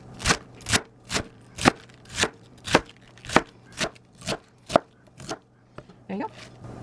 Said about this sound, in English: So I'm going to cut my cabbage into thin little strips like that.